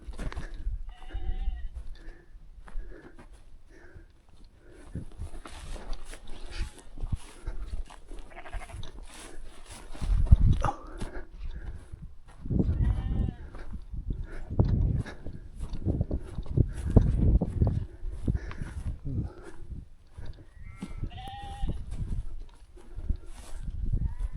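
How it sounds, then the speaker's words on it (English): Sheep bleat repeatedly near old Welsh stone walls and boggy ground, some calls close and others farther off, over soft outdoor ambience with occasional footsteps. "more sheep"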